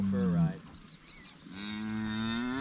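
A cow, likely a heifer, gives a deep, drawn-out moo that breaks off, then resumes with a second long, lower moo, fairly close amid farm ambience.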